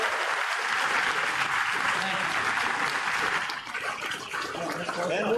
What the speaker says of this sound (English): let's give the panel a big round of applause here